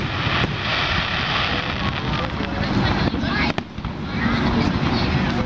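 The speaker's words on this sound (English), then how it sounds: "Watch the fireworks." A Fourth of July fireworks show at the Red, White and Boom event in East Peoria, Illinois, heard as a dense, continuous outdoor rumble with wind buffeting the microphone and one sharp crack partway through.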